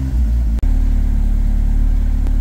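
Cold-started turbocharged truck engine running at high idle, a steady close low rumble with a brief cut near the start before the drone resumes.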